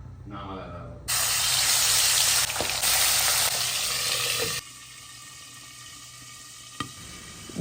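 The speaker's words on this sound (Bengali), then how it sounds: "যেই মাছগুলোর আঁশ হয় না সেই মাছগুলো ভাজতে গেলে কিন্তু প্রচণ্ড তেল ছিটে বাইরে আসে" Pabda fish hits hot oil in a pan with a sudden loud burst of sizzling that holds steady for a few seconds, then drops to a quieter continuous fry with an occasional pop.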